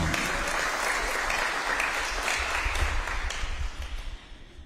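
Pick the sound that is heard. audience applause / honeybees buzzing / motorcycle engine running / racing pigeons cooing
audience applause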